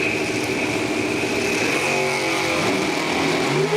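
Drag racing cars, a Nova and an American Dragster, roar loudly and continuously at Numidia Dragway, engines revving hard with rising harmonic tones throughout.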